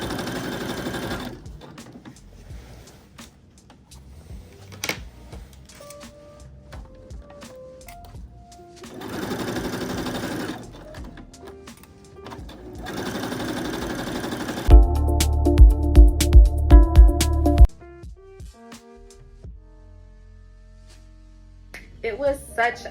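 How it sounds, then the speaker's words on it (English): A sewing machine topstitches a turned-up skirt hem in several separate bursts of steady whirring stitching, with quiet pauses between runs and a louder, faster rattling stretch near the middle. "Lastly, I top stitched the hem in place."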